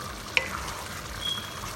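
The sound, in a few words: stirring seafood paella with shrimp and scallops in pan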